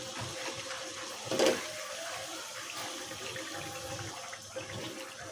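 Water is poured into a pan of pangas fish cooking over heat, producing a brief splashing burst followed by a continuous low bubbling and hissing simmer close up.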